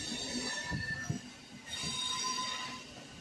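A local train pulls into Villupuram station on the Pondicherry to Chennai Egmore line, with steady rail rumble, metallic wheel squeal and rolling car noise close by.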